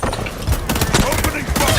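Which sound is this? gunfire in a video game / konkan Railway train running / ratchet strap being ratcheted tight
gunfire in a video game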